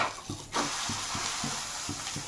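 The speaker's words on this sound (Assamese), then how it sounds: "এতিয়া কণী এটা ভাজি দি আছোঁ" An egg fries in a pan with a steady, close sizzling hiss and a few light rhythmic taps from a utensil.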